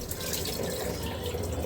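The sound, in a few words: water poured over rice while washing it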